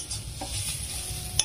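Spice masala being stirred and fried in a pan with green chilli and salt, a steady close sizzle under scraping strokes and one sharp clink near the end.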